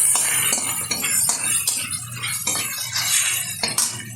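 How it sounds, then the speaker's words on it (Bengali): Fish oil with black cumin seeds sizzles in a pan, a steady close frying hiss with scattered metal clinks of a utensil stirring against the pan. "দিয়ে দিচ্ছি ধুয়ে রাখা মাছের তেল, হালকাভাবে ভেজে নিচ্ছি।"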